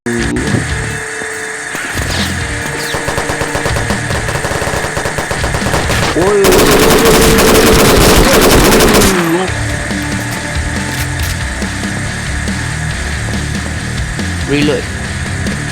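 Automatic gunfire in the Roblox bank-robbery game, steady loud shooting that swells into a dense burst midway, with people talking over it.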